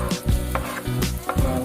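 Garlic and onion sautéing in a pan for mung bean stew, a steady close sizzle with a few brief clinks and stirring scrapes over 1.7 seconds, no voices.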